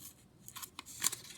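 Scissors making fine slices into paper for a reindeer pop-up craft, using the part of the blades near the handle, a few quiet crisp snips close by, the last one the sharpest.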